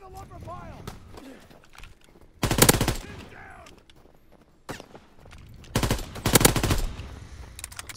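Bursts of machine gun fire in a Call of Duty match, two loud sustained volleys, close and punchy, separated by quieter game noise and a voice talking between bursts.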